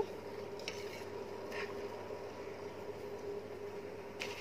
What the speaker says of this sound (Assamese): পানীৰ সৈতে চেনিখিনি ভালদৰে লৰাই দিব।